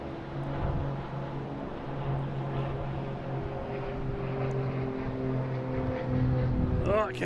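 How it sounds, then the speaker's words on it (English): An aircraft flies by at Boston Logan International Airport, a moderate droning engine hum with steady propeller-like tones that swells slightly toward the end, heard at a distance. "we're going to get a flyby"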